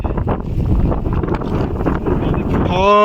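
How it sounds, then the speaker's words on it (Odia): Strong stormy wind roars across open ground near rice fields during a fishing outing, blasting the microphone with a loud, continuous rumble; a voice cuts in briefly at the end. "ବାବାରେ କି ପବନ"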